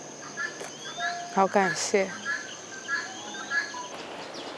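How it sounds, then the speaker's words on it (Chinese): Small birds chirp in short repeated calls over a steady high insect buzz beside a small river in Lampang, Thailand, in the early morning, and a person speaks briefly partway through. "听听虫鸣鸟叫"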